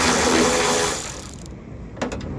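Ratcheting mechanical whir of a bolt being backed out during windshield removal, loud and continuous at first, then thinning into a few light clicks and a short metallic burst.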